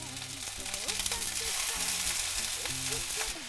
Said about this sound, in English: Okay, so we have a hot pan, a bit of oil. We are going to sear the meat